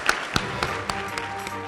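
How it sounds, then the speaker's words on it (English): Audience applause at a Rotary luncheon, a crowd clapping steadily and moderately loud for the whole stretch with no voices over it. "Let's have another round of applause for Mr. Baseler."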